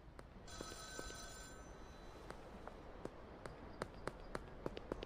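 A payphone rings in the Minecraft video game, a steady electronic bell-like ring at the start, followed by a run of light clicking footstep-like taps.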